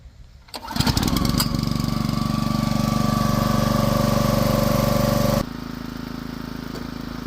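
The engine of a Split-Fire 4209 log splitter starts and then runs loud and close with a steady throbbing drone, dropping to a lower, quieter idle near the end.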